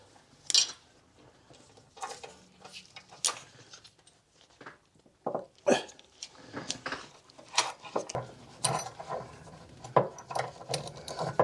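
A chain jack ratchets up a couple of notches on the front suspension of a Jaguar XK8 during a strut rebuild, giving a series of close, irregular metallic clicks and clanks with gaps between them.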